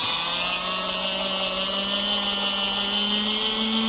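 A beauty blender washing machine, a small device filled with water, runs with a steady, loud whirring motor hum and a rising tone, close up and continuous with no talking.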